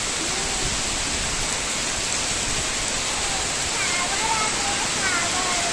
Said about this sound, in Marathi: किती पाऊस पडतोय ना?